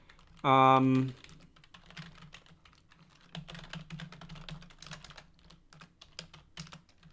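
Quick, light keystrokes on a computer keyboard patter irregularly at close range, following a short tonal beep at the start, with bursts of typing spread across several seconds.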